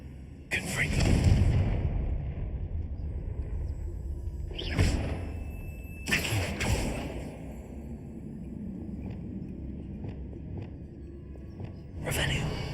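In the Hogwarts video game, the Confringo explosion spell lands as a series of deep booming blasts with whooshing bursts, each fading into a low rumble. A voice calls out spells between the impacts.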